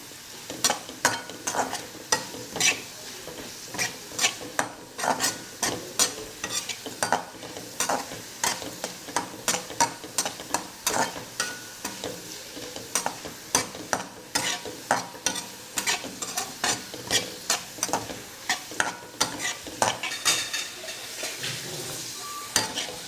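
Cumin and spices frying in a pan in a home kitchen, a spoon or spatula scraping and clattering in a steady repeated stirring rhythm over a continuous soft sizzle, close and fairly loud, with no talking.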